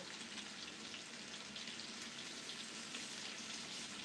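Green onions are rinsed under a running kitchen tap, a steady, even rush of splashing water that stays constant and faint throughout with no talk.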